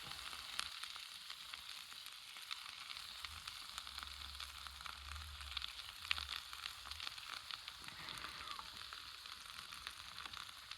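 A steak fries in butter in a pan at a primitive camp in Appalachia, giving a faint, continuous crackling sizzle with a low rumble underneath for part of the time.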